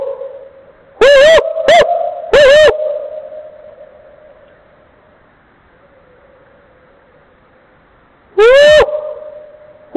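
A played-back recording of a person imitating an owl call: several loud, close hooting calls, three in quick succession and one later, over a low steady hum.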